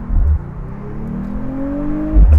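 Mercedes-AMG CLE 53 Cabriolet inline-six accelerating hard, rising engine tone climbing steadily through the gear, with deep exhaust thumps punctuating the shifts at the start and end, loud and close.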